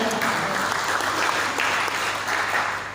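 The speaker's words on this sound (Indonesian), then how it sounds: "tepuk tangan untuk Tuhan" A church congregation applauds steadily during a sermon, a dense wash of clapping from many hands that holds at an even level for the whole stretch with no voices over it.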